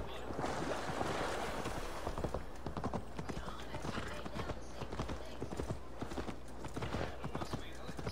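Horse hooves clip-clop steadily in Assassin's Creed Valhalla as a rider travels, a close, regular rhythm of hoofbeats over a constant bed of game ambience and music.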